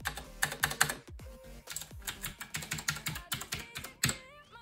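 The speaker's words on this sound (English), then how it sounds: "for a price like that, the keyboard sounds really awesome" Rapid, clicky keystrokes on a DELTACO TB-640 mechanical gaming keyboard, typed close up in quick bursts with short pauses and a few sharper key clacks.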